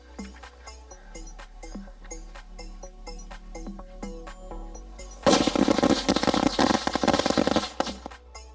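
A Diwali firecracker goes off with a sudden loud burst of rapid crackling bangs that lasts about three seconds, following a stretch of quieter tonal background sound.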